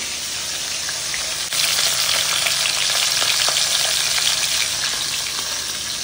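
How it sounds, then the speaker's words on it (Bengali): Koi fish fry in hot oil, two at a time, filling the space with a loud, dense, unbroken sizzle and crackle that swells slightly after a brief dip; close and steady, with no one talking. "দুটো দুটো করে কিন্তু আমি মাছগুলো ভেজে নেবো"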